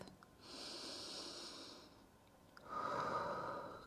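Slow, deep breathing during a yoga session: a long airy inhale followed by a fuller, stronger exhale, close and soft with no talking.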